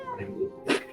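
A person imitates a cat, giving a short, close, nasal meow-like cry followed by a sharper breathy burst, brief and alone.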